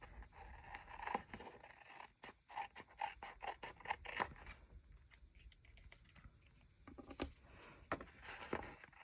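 Scissors trim paper for a creative journal collage spread, a quiet run of small snipping cuts and light paper scrapes repeating irregularly, close by and without talk.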